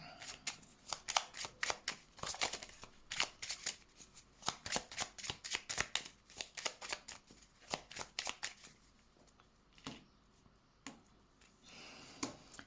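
Tarot cards being shuffled for a reading, a long run of crisp, close riffling bursts in an uneven rhythm, clearly audible with no talking over them and brief pauses between shuffles.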